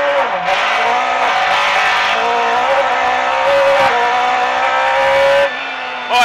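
A Darrian T90 race car drives on track, its engine a loud, close, sustained drone with shifting pitch and brief squeals of tyres, ending in an abrupt cut.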